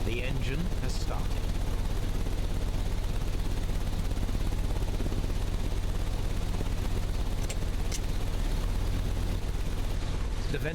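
A machine engine runs continuously in Sherlock Holmes: Crimes and Punishments, a steady low mechanical drone with dense rumbling texture and a few faint clanks, while voices talk over it.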